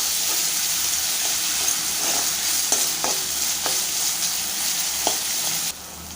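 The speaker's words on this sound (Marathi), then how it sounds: "तेल सुटेपर्यंत आपण छान टोमॅटो परतून घेऊया।" Finely chopped tomatoes sauté in oil in a pan, a continuous close sizzle broken by repeated scraping stirs of a spoon against the pan.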